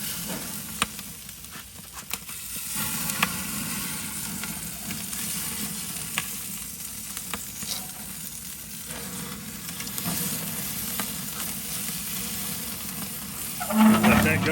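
Smoked brisket steaks sizzle steadily in a buttered pan right after being flipped, a close, continuous frying hiss with occasional pops and a brief clatter near the end, and no talking.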